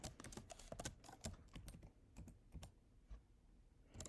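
A person taps on a computer keyboard in quick irregular clusters of keystrokes that thin out into sparse single presses, close and fairly quiet, with no talking.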